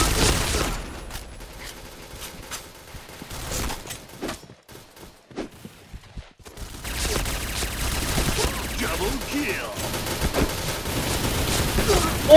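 Rapid bursts of MP5K submachine gun fire in the shooter game Point Blank, dense and loud at the start, thinning to sparse shots, then sustained chattering fire through the second half, with someone talking over it.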